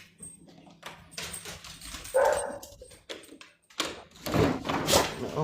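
Dogs whimper and give short yelps and barks near a door before going outside, bursts separated by quiet gaps, with door sliding and scuffling sounds mixed in.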